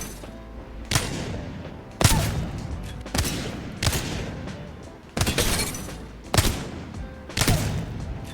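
Wingman pistol fire at a training dummy in Apex Legends: about seven loud, crisp single shots, spaced roughly a second apart, each ending in a short ringing tail, with no talking.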